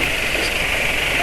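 A car engine running Amsoil Signature 5W-50 oil idles with a steady, even hum, close by and unchanging for the short stretch.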